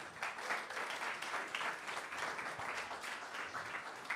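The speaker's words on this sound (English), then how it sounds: "give yourselves a round of applause" Audience at a jazz concert applauds in a moderate, steady wash of clapping, fairly soft and even in level from start to finish.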